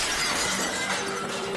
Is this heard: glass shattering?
yes